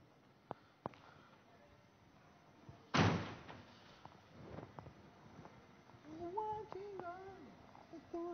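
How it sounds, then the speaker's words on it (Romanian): A door is pushed open with a single loud thud and rattle midway, preceded by faint knocks and followed by scattered movement and children's voices talking nearby. "Pinge ușa aia"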